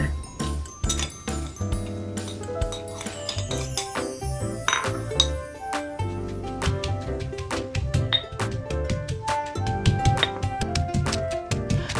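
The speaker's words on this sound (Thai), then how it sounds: "ตำทุกอย่างให้เข้ากันดีค่ะ" A pestle pounds shrimp paste and other ingredients in a mortar, making steady, rapid thuds mixed with bright clinks that repeat close up throughout, with no talking.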